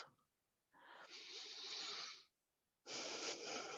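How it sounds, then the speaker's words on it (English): Two slow, airy breaths drawn in and out through the nose during a calm yoga practice. Each breath is a soft, close hiss lasting over a second, separated by a short pause. "Begin breathing in and out through your nose."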